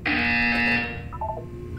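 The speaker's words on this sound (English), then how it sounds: "You will hear a buzzer." Buzzer from the video game Portal 2, a single loud electronic tone lasting about a second with a few fainter beeps trailing after it, and no talk.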